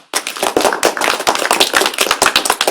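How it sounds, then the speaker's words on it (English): Audience at the Brown China Summit 2022 entrepreneurship session applauds Mr. Shen: a dense, steady patter of many hands clapping close by, starting abruptly and sustained throughout with sharp individual claps standing out. "let's give a round of applause to Mr. Shen"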